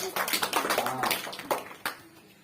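Schoolchildren at a government primary school assembly clap in short bursts of quick, scattered claps at moderate distance, with a few louder isolated claps near the end.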